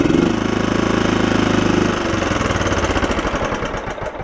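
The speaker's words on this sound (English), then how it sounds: "Just started it up just a few minutes ago." The Kohler engine of a John Deere lawn tractor runs close by, a loud, steady mechanical chug with a rapid pulsing beat that loosens and wavers slightly toward the end.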